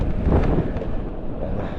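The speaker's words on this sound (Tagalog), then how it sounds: "sarap ng hangin" A short gust of wind roars straight into the microphone, a loud low rumble that swells and then eases slightly.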